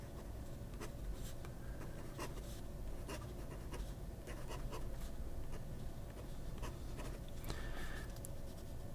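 A medium-nib fountain pen writes on paper with soft, scratchy strokes in an irregular rhythm, close and faint against a steady hiss.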